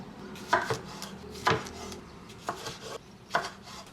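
A knife chops vegetables for witch soup in a home kitchen, making four crisp, close knocks on a cutting board at a slow, even pace with no talking.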